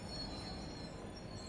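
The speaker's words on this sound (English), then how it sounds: "that was my first look at the Medway Valley Line as our 66 rolls away" A Class 66 diesel freight locomotive rolls away on the Medway Valley Line in Train Sim World 6: a steady, faint low rumble of rail noise with no talk.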